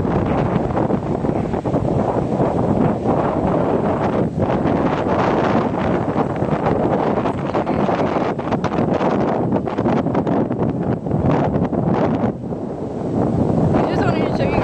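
Strong, steady wind roars against the microphone through trees at a lakeside summer fishing spot in Oklahoma City, a dense, constant rush with no breaks.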